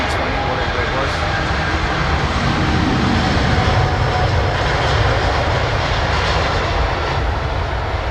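Airbus A319 or A320 jet airliner with V2500 engines at London Heathrow, a loud continuous engine roar and rumble that stays steady throughout, with commentators' voices faintly present under it.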